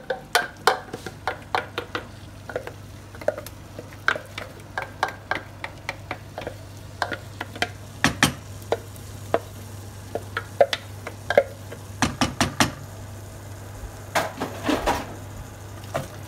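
Apple puree being stirred into celeriac puree in a pan, scattered clicks and taps of a spoon against the pan at an irregular pace, close and fairly quiet over a faint steady hum.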